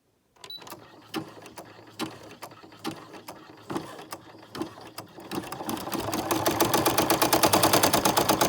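An embroidery sewing machine stitches a rectangle onto a mini notebook holder in the hoop, first with spaced rhythmic mechanical clacks, then a fast continuous rattling stitch that grows louder toward the end.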